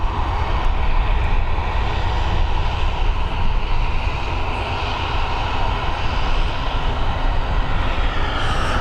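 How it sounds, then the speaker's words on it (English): A KLM Cityhopper Embraer E195 departs Dublin Airport for Amsterdam, and its jet engines roar loudly and steadily across the whole span with no voices. "our next departure is going to be an Embraer E195 sending over to Amsterdam, operated by KLM, a City Hopper"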